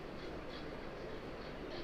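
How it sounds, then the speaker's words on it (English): A model railway train runs on an exhibition layout of a Scottish goods-only branch terminus, giving a steady, even rumble of wheels on track at close range with no talk. "Trains arrive from the right from the hidden fiddle yard, usually dropping the guard's van near to the engine shed"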